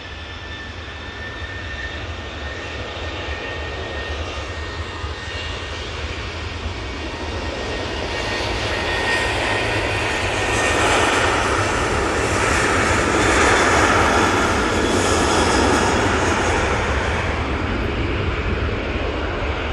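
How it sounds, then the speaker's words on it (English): A TUI Boeing 737-800 jet takes off at Manchester Airport. Its engines roar loudly and steadily, and the sound swells to a peak around the middle before easing slightly as it climbs away. "that TUI 737-800 is off to Split."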